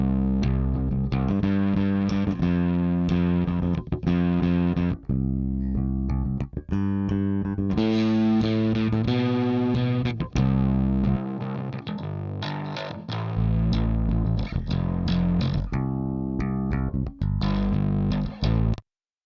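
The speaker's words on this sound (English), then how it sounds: "So here are both of the bass tracks." Two soloed bass guitar tracks with heavy distortion play a loud, driving riff with punchy, gritty low notes and a brief pause midway, without any other instruments.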